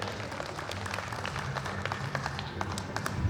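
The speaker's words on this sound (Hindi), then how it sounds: "एक बार सर के सम्मान में जोरदार तालियां बजाइए" Scattered clapping from an outdoor crowd at a Kota Dussehra comic poetry gathering, fairly soft and diffuse over a constant low rumble of crowd and venue noise.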